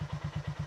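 Honda GB350S single-cylinder motorcycle fitted with a DNA air filter, idling with a steady low thumping beat of about eight pulses a second, close and alone.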